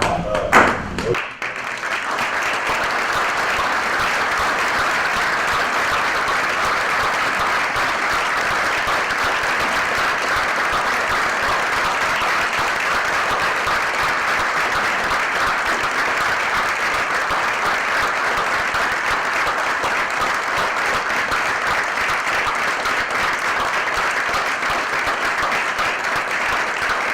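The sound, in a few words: applause in commissioners court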